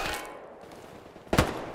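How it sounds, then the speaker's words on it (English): Gunfire in a dense forest in the game Hell Let Loose: a faint distant shot early on, then one loud close report about two-thirds through, echoing against a low ambient background. "The sounds of gunfire echo through the dense forest."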